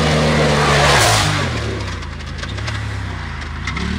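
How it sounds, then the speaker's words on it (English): An off-road RZR side-by-side engine drones and revs on a dirt track, loud and close, with a rough, strained tone that dips and climbs again over a few seconds. "Car didn't sound super happy."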